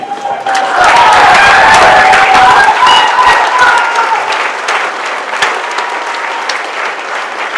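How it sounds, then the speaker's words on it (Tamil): Loud, close applause from an audience at a Tamil film event, a dense burst of clapping with some crowd noise that holds strong and then eases slightly toward the end. "உங்கள் கைத்தட்டல்கள் உற்சாகம்."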